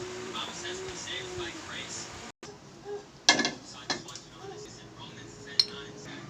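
Dishes being washed in a home kitchen after cooking mung bean stew: scattered clinks of pots, cutlery and glass, a few sharp knocks standing out over running background noise, with a voice talking nearby.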